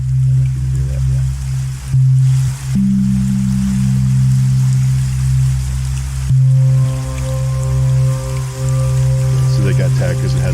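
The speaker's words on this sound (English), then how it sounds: "see who's got some cool rain sound effect" A recorded rain sound effect plays back in the Roll20 tabletop platform for a Traveller RPG session: continuous pattering rain at moderate loudness over a steady low hum.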